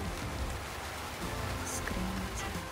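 Steady rain drums on a roof in Florida, a dense even patter with faint background sounds and no clear talk.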